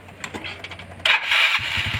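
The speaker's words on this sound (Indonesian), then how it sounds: "Ya mang, motor anyar teh hirup." A new motorcycle engine starts: quiet shuffling gives way to a sudden loud, rasping burst, then the engine settles into a low, rapid, pulsing idle close by.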